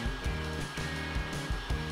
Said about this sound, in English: Heat overly frozen ice cream with a hairdryer.